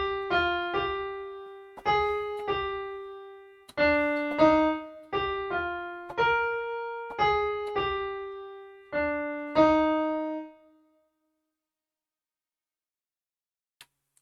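Keyboard plays a passage of a song from bar 80 on its own: bright, piano-like notes struck in regular groups of chords with steady rhythm over about ten seconds, then silence with a faint click near the end.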